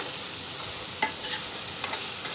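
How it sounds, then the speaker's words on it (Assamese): Steady sizzling of tomatoes and onions frying in a pan, with a couple of soft scraping stirs; close and continuous, no voices. "বিলাহীখিনি দিয়াৰ পাছত পিয়াজৰ লগত ভাজি লম"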